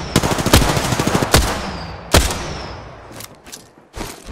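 Close, loud gunfire in the battle royale shooter Apex Legends: a rapid automatic burst of sharp cracks, then a few heavier single shots spaced apart and tapering to quieter, scattered reports.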